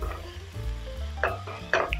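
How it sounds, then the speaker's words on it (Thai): Minced pork stir-fried with tomato and garlic in a hot pan: a steady sizzle with scraping stirs and a few sharp utensil clinks against the pan, close and without talk. "ก็ใส่มะเขือเทศลงไปเลยค่ะ จะใส่มะเขือเทศลงไปก่อนหมูนะคะเพื่อให้มะเขือเทศเละๆนะคะสุกๆเละๆเลยผัดพอเข้ากันพอค่ะใส่หมูสับลงไปเลยค่ะ"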